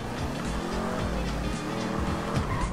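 A car in GTA V driven in first person, engine roaring steadily with repeated tire squeals and skidding, fairly loud and continuous with no talk.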